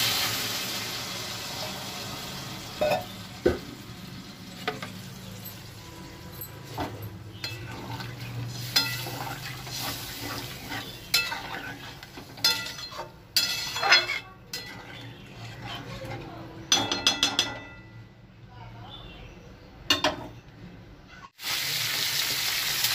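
Unripe jackfruit and potatoes cook in oil in a pot, with steady sizzling broken by clanks and scrapes of a spoon against the metal as water is poured in, all close by.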